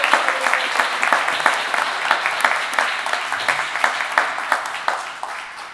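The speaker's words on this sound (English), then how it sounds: "Let's give them a round of applause just to get started." Audience applause at a Port of Seattle Commission candidate forum, a steady patter of many hands clapping at moderate distance for about six seconds, with individual claps standing out and fading slightly toward the end.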